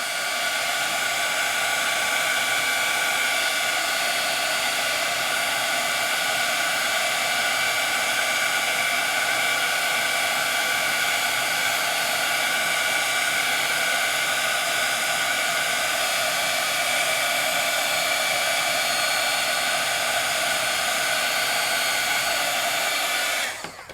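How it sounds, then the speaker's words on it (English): A heat embossing tool blows hot air over embossing powder, a loud, steady hiss-roar that runs unbroken for the whole stretch before cutting off at the very end. "I'm going to come back with my heat tool, and I'm going to heat it a little bit more over there."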